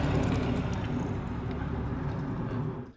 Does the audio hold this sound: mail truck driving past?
yes